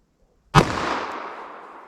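A .44 Special handgun fires a single Elmer Keith hard-cast bullet load at about 1,000 feet per second: one sharp, loud crack out of near silence, followed by a long fading outdoor echo.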